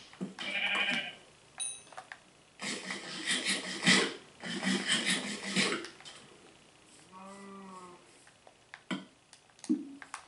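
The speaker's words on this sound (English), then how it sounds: "I'm just gonna kill a sheep." Sheep in a video game, a single short bleat heard alone in the middle, among bursts of clattery game noise and hits before and after it.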